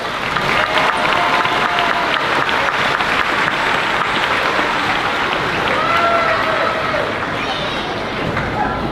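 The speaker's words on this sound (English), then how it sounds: "let's give Mrs. Grudador and Mrs. Tohill's class another round of applause" An audience at a fifth grade moving-up ceremony applauds a class, with loud, dense clapping sustained throughout, mixed with some cheering and crowd noise.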